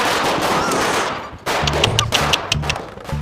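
Diwali firecrackers go off in Delhi, a dense crackling rattle at first, then a series of sharp rapid bursts like machine-gun popping, loud and outdoors.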